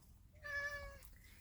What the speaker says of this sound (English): my cat wanted some food